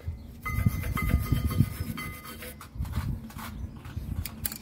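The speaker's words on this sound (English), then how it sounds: "We're just going to give the brake carrier a bit of a clean up." Rough scrubbing and rubbing against the brake carrier of a Fiat 500 during a brake change, in irregular back-and-forth strokes that come close and moderately loud, with no talking.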